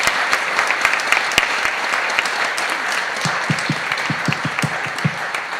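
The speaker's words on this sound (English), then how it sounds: "Can we give a round of applause to our panelists and moderator?" Audience at a women executives' panel event giving a round of applause for the panelists and moderator, steady clapping with a few sharper, closer claps standing out near the end.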